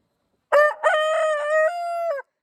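A single rooster crows once, close and clear, in one long drawn-out call lasting under two seconds against silence.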